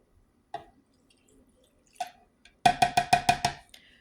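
A couple of soft isolated drips, then a quick run of five or six wet squirting splashes of disinfecting liquid poured onto absorbent wipes nearby.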